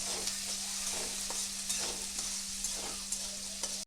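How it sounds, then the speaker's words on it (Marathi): Onion and peanut pieces fry in oil in a pan for a Khandeshi-style brinjal bharit, a continuous close sizzle with scattered crackles and light stirring under a steady low hum. "शेंगदाण्याचे खाप आणि कांदा हे टाकून घ्यायचे। कांदा लालसर होसपर्यंत आपल्याला भाजून घ्यायचे आहे"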